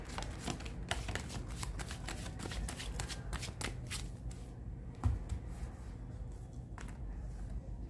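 Tarot cards are shuffled by hand in a steady run of close, crisp, rustling slaps that thin out and soften toward the end.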